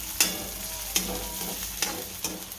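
Onions heating in a pan as the base for aloo matar paratha filling, with a continuous low sizzle and four sharp spoon scrapes at uneven intervals, close by.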